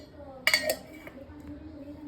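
Dishes are put away in a home kitchen with a brief cluster of bright clinks and a clatter, then quiet room tone with a faint later tap.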